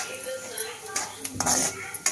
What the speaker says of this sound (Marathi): आता आपण हे सगळं सारखं मिक्स करून घेऊ